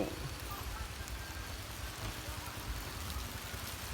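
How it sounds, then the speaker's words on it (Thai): Steady rain falls on a rural Thai property with banana trees, a dense even hiss of drops on surfaces with a soft low rumble underneath, no voices. "ฝนตกครับผม ชุ่มฉ่ำครับ"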